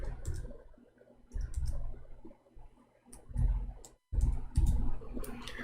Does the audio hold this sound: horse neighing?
no